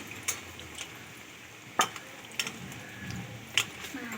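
Rolled naan puri dough sizzles in hot oil in a small wok, a low frying hiss broken by several sharp metallic clinks of a utensil against the pan.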